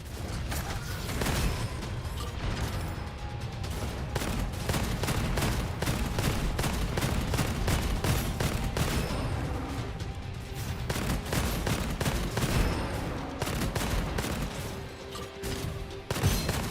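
Rapid, continuous gunfire from the Foundry, the starting gun in a video game, plays loud and steady for the whole stretch as a dense run of overlapping shots and mechanical clatter.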